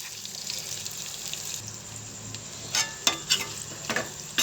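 Green chillies and mint fry in oil for mutton pickle, a soft sizzle in the pan broken by a few scraping stirs toward the end, with no talking.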